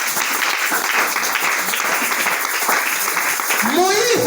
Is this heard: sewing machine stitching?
no